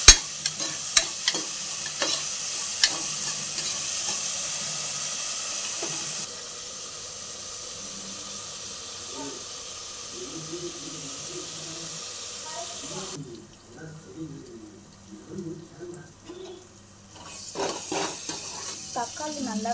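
Vegetables sauté with salt in a pan, a steady low sizzle broken by scraping stirs of a spatula, with a brief fainter spell and a few louder clattering strokes near the end.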